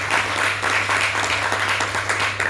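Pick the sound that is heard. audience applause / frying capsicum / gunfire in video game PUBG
audience applause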